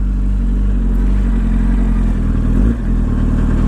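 Scott Russell's backup Yamaha R1 AMA pro racing motorcycle idling nearby, a steady loud low engine rumble with a brief dip in the middle.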